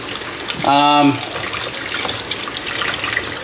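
A Blitzball is washed with soap under a running tap, giving a close, steady splash of water throughout. A short tonal squeak or hum rises over the flow for a moment near the start.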